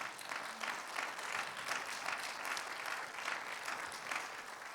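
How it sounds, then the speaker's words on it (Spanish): A church congregation applauds steadily throughout, a dense, even wash of many hands clapping at moderate loudness with no speech over it. "Dele un fuerte aplauso al Señor"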